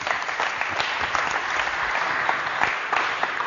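Short burst of steady applause from a small group at a shooting drill session, fairly close and continuous throughout.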